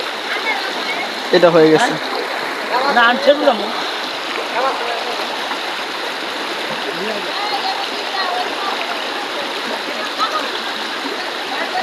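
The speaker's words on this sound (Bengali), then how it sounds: "দেখুন সামান্য একটা স্রোত, বেশি স্রোত না" Water current rushes over a broken village road in Sherpur as a continuous close, even flowing wash, with a voice briefly speaking over it early on.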